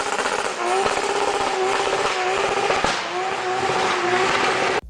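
Car powered by a Toyota 2JZ engine runs hard, a loud raspy engine roar with rising and falling pitch and crackling exhaust, close and continuous before cutting off abruptly.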